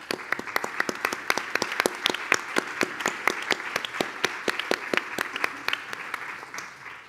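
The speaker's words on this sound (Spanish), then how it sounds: "Primero, un aplauso para Berta Sureda" A crowd applauds with many sharp, overlapping claps in a steady patter that thins out slightly near the end.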